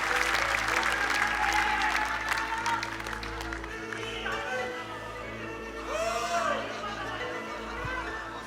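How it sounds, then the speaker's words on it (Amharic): A church congregation claps steadily at close range, with crowd voices and chatter mixed throughout the sustained applause. "አጨብጭቡ አጨብጭቡ አጨብጭቡ አጨብጭቡ አጨብጭቡ አጨብጭቡ"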